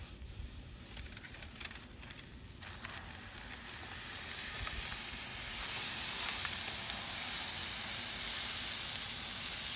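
Smash burger patty frying in bacon grease on a Blackstone griddle, a steady close sizzle and hiss that swells louder as it cooks.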